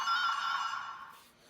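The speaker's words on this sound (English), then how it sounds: "that's the sound you hear when you turn on the changer" A short electronic chime rings out from a Kyōryū Sentai Zyuranger Dino Buckler toy changer switching on, bright and tonal, then fades away after about a second.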